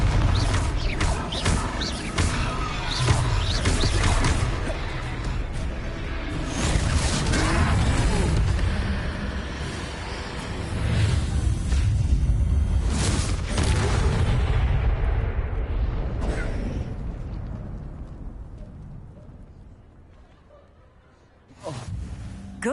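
Heavy rumbling blasts and crashing impacts from a Confringo blasting spell in a Harry Potter video game, loud and sustained with rolling booms, fading toward the end before a sharp final hit.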